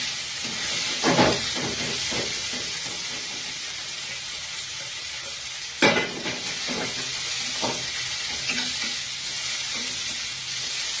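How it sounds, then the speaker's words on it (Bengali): Onion, ginger-garlic paste, tomato and chopped green chili sizzle steadily in a wok, with a spatula scraping and stirring in a few louder bursts over a constant frying hiss. "যতক্ষণটা ভালোভাবে ভাজা হচ্ছে এটাকে দিয়ে তোমাদেরকে নাড়তে থাকতে হবে"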